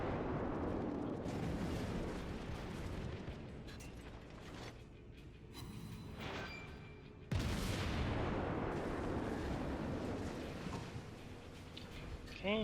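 A battleship's gun volley in the naval combat game World of Warships, with a sudden loud boom that rolls into a long rumbling roar after earlier heavy rumbling, all set in dense game noise.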